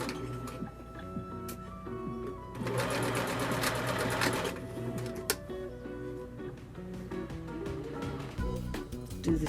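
A sewing machine backstitches a 5/8-inch seam on an apron: a close, loud run of rapid stitching lasting about two seconds, with light clicks and handling noise before and after.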